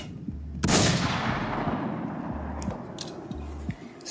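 Single sharp gunshot in a Roblox Russian roulette game, a loud close blast with a long decaying tail, followed by faint clinks and a low repeating game hum.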